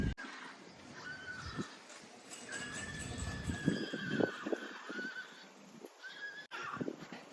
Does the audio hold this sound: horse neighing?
yes